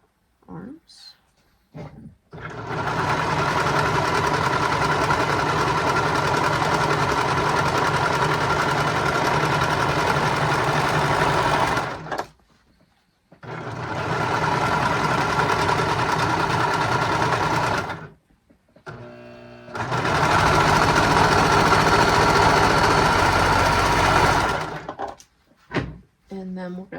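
A sewing machine stitches a romper neckband in three long close bursts of loud motor whirring, separated by short pauses.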